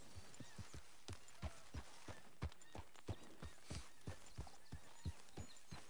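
Horse hooves clip-clop at a steady walking rhythm in a Red Dead Redemption 2 ranch scene, with regular close, distinct hoof strikes and no talk.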